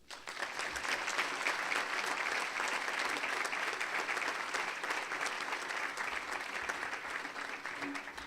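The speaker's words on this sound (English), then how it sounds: "Now for your round of applause." Audience applause for Hall of Fame inductees at a school athletics induction ceremony: an even, sustained round of clapping from a seated crowd, heard somewhat distant and soft throughout.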